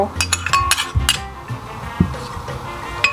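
A spoon clinks and scrapes against a bowl while mashing fermented tofu, giving a quick run of close metallic taps and knocks over a few seconds.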